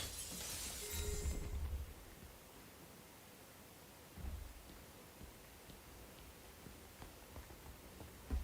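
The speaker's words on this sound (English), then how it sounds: "Could've sworn I heard broken glass." Glass shatters in the video game Batman: Arkham Knight, a bright crashing burst at the start that dies into a hissing rustle, followed by scattered faint debris ticks. No one speaks.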